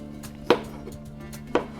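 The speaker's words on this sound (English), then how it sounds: "Start by chopping the strawberries." Knife chopping strawberries on a cutting board for Eton Mess gives two crisp, close chops about a second apart, with no talking.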